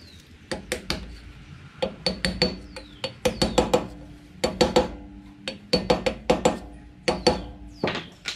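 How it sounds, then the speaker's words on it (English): Repeated sharp metallic taps, in quick clusters and short pauses, close and bright, as a metal bearing cap is tapped onto a car trailer wheel hub. "Then we want to take our cap and tap our cap back on."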